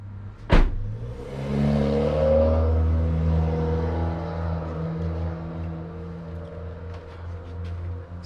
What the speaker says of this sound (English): Let me turn on the car.